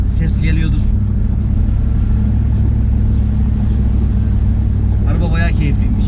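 A Jeep Grand Cherokee 4.7 V8 climbs a ramp, a loud, steady low engine rumble heard from close by throughout, with someone talking briefly at the start and end.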